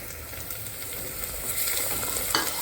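Onion and tomato sautéing in hot oil in a pan for spiced Indrayani rice, a dense close sizzle with light stirring scrapes building slightly toward the end, no voices.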